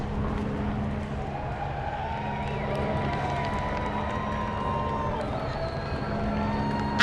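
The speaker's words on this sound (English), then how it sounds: "there was quite a cheer went up from the crowd behind us" A crowd outside Buckingham Palace during 2024 general election coverage sends up a cheer, heard as a steady, fairly distant broad roar that swells slightly toward the end, mixed with street and traffic noise.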